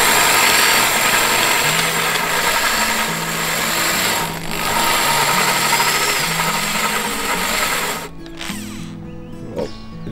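Power drill boring through the hull of an Amel 54 sailboat, a loud continuous whirring drone that shifts pitch as it cuts, then cuts out near the end.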